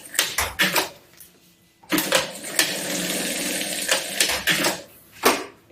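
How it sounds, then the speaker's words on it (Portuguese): A sewing machine runs in several short bursts and one longer steady run, stitching a seam down each side of a folded fabric bag lining for a double crossbody bag, close and fairly loud with pauses between passes. "vou dobrar no meio, fazer uma costura de cada lado"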